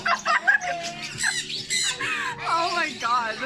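Large birds squawk loudly and repeatedly at close range during a bird encounter in Guangzhou, harsh overlapping calls mixed with excited voices of people talking nearby.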